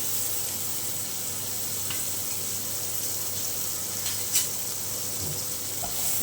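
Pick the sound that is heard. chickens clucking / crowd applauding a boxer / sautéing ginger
sautéing ginger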